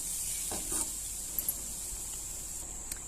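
Fresh coconut barfi mixture is stirred in a pan with the gas off, giving a faint steady hiss with a few soft scraping touches of the spoon.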